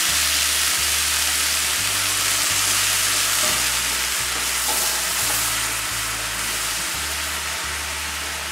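Mushrooms hit a pan of toasted risotto rice with softened onions and garlic, producing a loud, dense, hissing sizzle. Stirring rustles through it, and a low stepped hum sits beneath.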